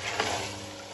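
Chopped carrots and peas stirred in ghee in a pot, a soft steady sizzle with a light scrape of the spoon near the start, close and quiet.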